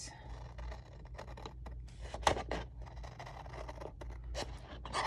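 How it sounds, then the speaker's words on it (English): Scissors snip through paper while decorating a creative journal, with close, irregular crisp cuts and light scraping rustles, fairly quiet and without talk. "And then I use my scissors like this."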